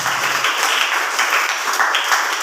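Loud audience applause fills a Telugu Christian sermon gathering, a dense, steady wash of many hands clapping for over two seconds without a break.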